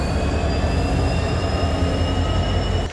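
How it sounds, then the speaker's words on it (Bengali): Inside the Banglabandha Express intercity train on the Rajshahi to Panchagarh run with old coaches: a loud, continuous rumbling roar of the moving train with a faint steady high whine, close and unbroken. "দেখার ব্যাপার এই যে বুড়ো কোচ, এই কোচ নিয়ে কতটা গতির সাথে ছুটে চলে আমাদের আজকের সফর সঙ্গী"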